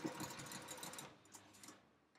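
A sewing machine stitches a fabric bag with a rapid, steady mechanical whir, close and fairly quiet, slowing and fading out toward the end.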